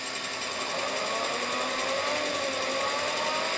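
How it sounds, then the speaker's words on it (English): Alternator running in a petrol car converted to electric, a steady high-pitched whirring hum, constant and close with no variation. "I'm gonna switch off the alternator"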